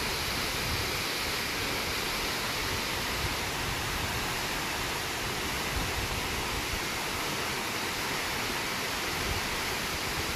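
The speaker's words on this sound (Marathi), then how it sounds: "हा राऊतवाडी धबधबा पूर्ण क्षमतेनं वाहायला सुरुवात झालेली आहे" Rautwadi waterfall near Kolhapur, flowing at full capacity, gives a steady, dense roar of falling water that fills the whole stretch with no break and no voices.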